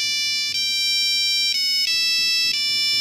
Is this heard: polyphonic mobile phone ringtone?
yes